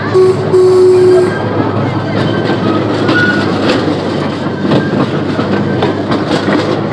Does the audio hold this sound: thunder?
no